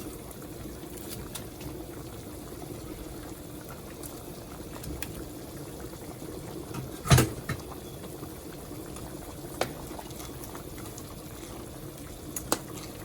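Fish simmering in a pot of Jamaican brown stew gravy, a soft steady bubbling and hiss throughout, with one sharp clatter midway and a few faint knocks near the end.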